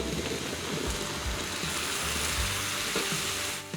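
Spices and bay leaves fry in a pot as wine is added to deglaze, giving a loud, constant sizzle with crackling and stirring scrapes, close and without talk.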